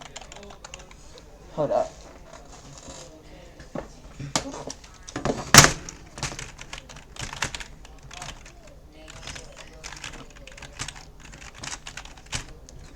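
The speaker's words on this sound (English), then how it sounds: "Let me erase this and type that." Rapid, uneven clicking of keys on a computer keyboard sounds close by, broken by a couple of louder knocks, with a person's voice briefly speaking over it.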